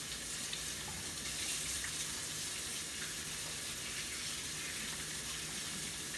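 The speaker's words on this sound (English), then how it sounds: "So let me clean my hands off here." Running kitchen tap water splashes steadily as hands are washed after rolling dumplings, a continuous broadband rush close by with no talking.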